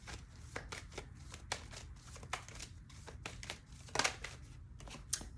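Tarot cards are shuffled in a quiet room, with a rapid series of crisp riffling bursts and soft card slaps. One louder flurry comes near the end, and no one speaks.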